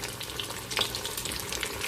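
Lottia fish frying in hot oil over medium-high heat, a close, dense crackling sizzle with a brief sharper spatter near the middle and no voices.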